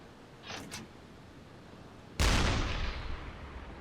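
A deck gun on a U-boat fires at a ship in the naval game Uboat: one heavy, loud boom with a long rolling tail, preceded by a faint, brief splash-like rush over quiet ambient sea noise.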